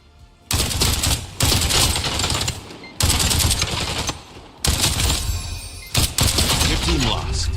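Gunfire in the tactical FPS Spectre Divide, with several loud, close bursts of rapid automatic fire separated by brief pauses, while players talk faintly underneath.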